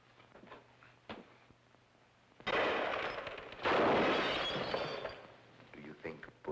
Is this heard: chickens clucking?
no